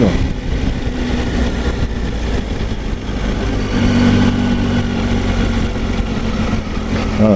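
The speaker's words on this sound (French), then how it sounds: "Je suis à 1800 et je reprends. Là j'ai mis la cinquième, ça réaccélère." A 2019 Triumph Tiger 800 XR engine hums steadily in fifth gear from about 1800 rpm, pulling back up with a continuous mid-pitched drone and heavy wind rush, heard from the rider's position.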